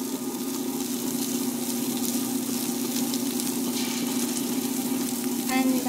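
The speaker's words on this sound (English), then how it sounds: "So I'm grinding the urad dal now." Wet grinder churning soaked urad dal into thick batter, a steady continuous whirring drone with wet sloshing texture running throughout, fairly loud and even, with no talking.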